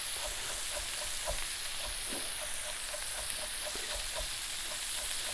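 Pork sizzling in a pan for teriyaki, a constant bright hiss with faint periodic ticks and light stirring, close and even throughout with no talking.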